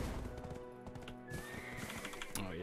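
A horse in Black Desert Online whinnies and its hooves clip-clop over uneven ground, close and clear, with game effects underneath and no talking.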